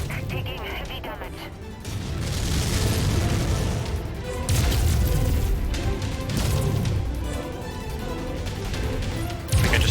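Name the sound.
ammo explosion in MechWarrior 5 video game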